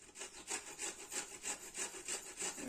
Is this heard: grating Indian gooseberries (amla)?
yes